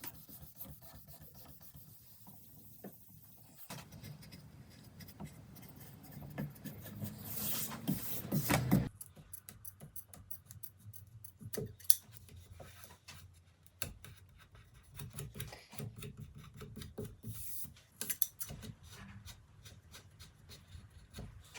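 Rasping, scraping cuts on a cricket bat scuff sheet during a Gunn & Moore bat repair, a steady series of close scratchy strokes with a louder burst in the middle and a few sharp knocks, no talk.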